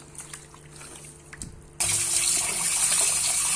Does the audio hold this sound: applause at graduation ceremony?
no